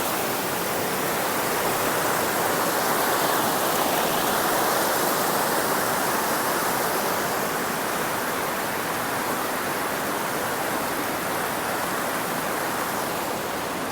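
A waterfall at a picnic spot near Rampachodavaram roars in a dense, constant rush of falling water, loud and close, with no pauses and no voices over it.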